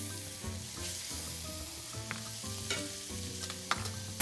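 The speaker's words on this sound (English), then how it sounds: "I'm just gonna put some butter in this beautiful pan you guys got me again. Swirl it around. And we're gonna sear this" Snook fillet searing in butter in a new pan, a steady close sizzle and crackle of frying throughout with light utensil clinks, no talking.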